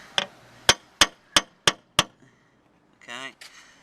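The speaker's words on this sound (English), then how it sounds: "we're going to give a little centre punch in the middle of the hole" A centre punch struck with a hammer on a Land Rover Freelander 2 tailgate light housing, six sharp metallic taps in an even rhythm, followed by a brief spoken remark.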